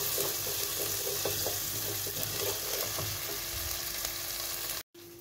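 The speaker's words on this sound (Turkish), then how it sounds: "şöyle kavuruyoruz efendim" Red onion, pepper paste and oil sautéing in a pan, with a steady sizzle and light clinks of stirring that end in a sudden cut.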